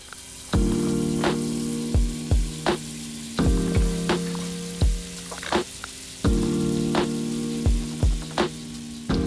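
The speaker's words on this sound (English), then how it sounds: "let's go ahead and get that fish into our pan here. Oil's nice and hot." Sheepshead fish fillets fry in hot oil in a pan with a steady sizzle, broken by recurring sharp clinks and scraping knocks at irregular intervals, close and fairly loud.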